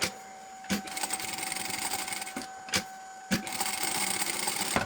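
A sewing machine stitching a seam around the edge of fabric, a close, steady mechanical whir with a few sharp clicks or knocks, heard alone without talk.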